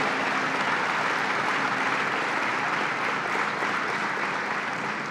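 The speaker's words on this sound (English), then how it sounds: "Let's give them a big round of applause and congratulations." Sustained applause from a large audience at a plastics factory expansion event, even and continuous, with many hands clapping at once and no pauses.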